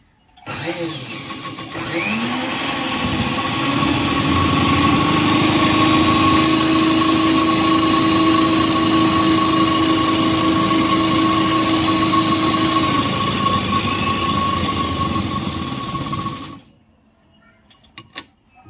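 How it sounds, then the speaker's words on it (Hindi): A sewing machine runs continuously while stitching a petticoat, a loud, steady motor hum with a faint whine that holds for about fifteen seconds before cutting off abruptly, followed by a few light handling noises. "फिर मैं सिलाई करूँगी"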